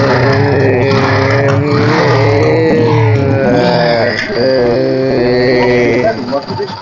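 A Yamaha FZS motorcycle engine revs up close and loud, its pitch rising and falling through several throttle blips over about seven seconds.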